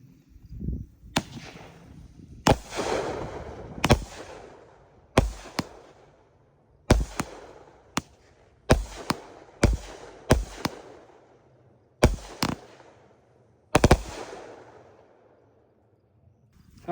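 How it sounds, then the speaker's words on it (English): Maddox Fireworks Blueberry Blast 12-shot cake firing a dozen sharp bursts at uneven intervals, each crack ringing out and decaying, heard outdoors at moderate distance with no talking. "so we're going to do Blueberry Blast by Maddox Fireworks, 12 shot"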